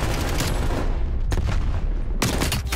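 An artillery barrage in Call of Duty Black Ops Cold War rumbles with continuous, loud explosive booms, with sharper blasts cracking out twice amid the dense roar.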